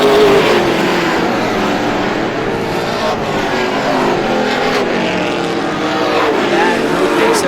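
Race cars roar down the back stretch at Star Speedway during the GSPSS 100, a dense, loud engine drone that holds steady, with engine notes rising and falling as the cars carry momentum off turn two.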